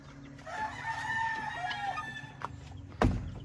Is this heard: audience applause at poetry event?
no